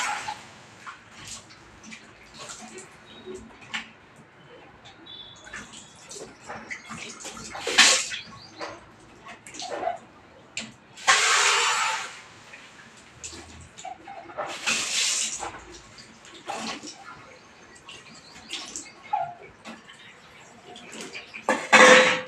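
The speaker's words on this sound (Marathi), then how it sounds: "तर याला आता आपण इथे धुवून घेऊया पाण्याने" A cleaned copper vessel rinsed with water: intermittent bursts of running water splashing into and over the metal, with small clanks and handling noises between the pours, close by.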